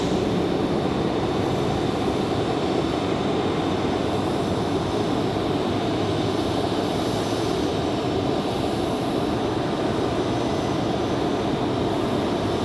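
A Southwest airliner departs Raleigh Durham airport with a broad, continuous jet roar that stays loud and even for the whole stretch, no voices on top.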